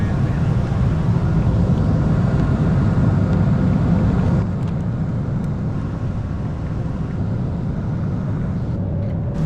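Steady loud roar inside an airliner cabin as the plane descends toward landing, a constant broadband engine and air drone that drops slightly in level partway through, with no speech.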